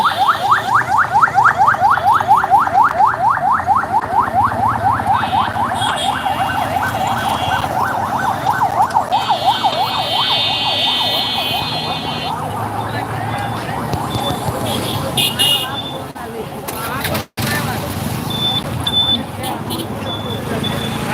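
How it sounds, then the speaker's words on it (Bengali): A wailing ambulance siren sweeps up and down rapidly, loud and near, outside Dhaka Medical College in Dhaka, then fades into a steady warble amid street noise and crowd voices. "ঢাকা মেডিকেলের সামনে অনেক অ্যাম্বুলেন্স যাচ্ছে"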